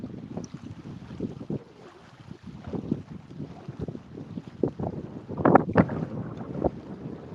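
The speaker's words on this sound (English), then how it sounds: "Is it me or did the wind actually turn a little bit?" Wind blowing over open water on a Louisiana boat outing, a gusty buffeting rumble against the microphone with uneven bumps and thumps of the boat, steady and close, with no talk.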